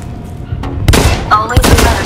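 Gunfire from the video game Blacklight: Retribution, a few sharp bursts of shots that land close and loud over a low steady background hum.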